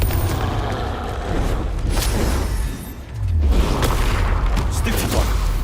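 Confringo blasting spell cast in a Harry Potter video game: a dense barrage of booming blasts and whooshing impacts over constant battle noise, with a brief dip before a deep low explosion swells back in.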